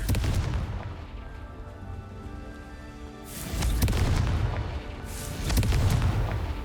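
Confringo fire spell explosions in the Hogwarts Legacy video game land as two booming, rumbling blasts a couple of seconds apart, each swelling and decaying, with no talk.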